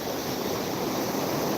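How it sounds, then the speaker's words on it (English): White River rapids rushing below Mud Mountain Dam during a flood surge, a steady, dense broadband roar of fast water that stays constant and close throughout, with no voices. "And the rapids are picking up."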